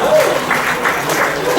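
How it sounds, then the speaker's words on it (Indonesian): Audience applause at an IT conference on e-commerce, a steady wash of clapping from a crowd sustained throughout with faint voices underneath. "Oke, tepuk tangan dulu ya."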